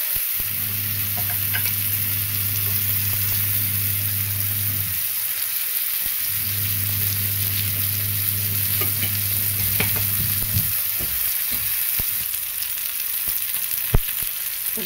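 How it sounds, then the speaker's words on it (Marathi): Tomatoes and green chilies fry in oil for a village-style thecha, giving a steady close sizzle and crackle throughout, with stirring scrapes and a low humming drone in two long stretches underneath. "बघा आपण थोडंसं खालीवर करून घेऊया."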